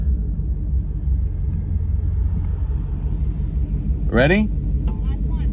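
A Shelby GT350 and a 2024 Dark Horse Mustang rumble steadily on a race track at a low, constant drone throughout, with a brief voice speaking over the engines near the end.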